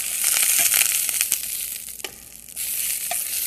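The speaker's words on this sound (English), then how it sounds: "Let's stir these green beans." Blue Lake green beans blistering in a hot pan, giving a loud, steady sizzle with scattered sharp scrapes and clacks as they are stirred, without any talk.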